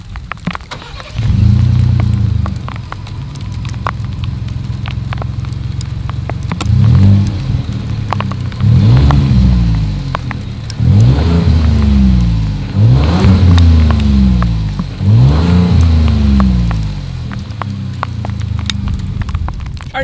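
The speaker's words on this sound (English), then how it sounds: "As always, here is that exhaust clip." Exhaust of a 2020 Ford Expedition, steady idle rumble followed by a series of about five rising and falling revs in the middle, then settling back to idle, close and fairly loud with no talking.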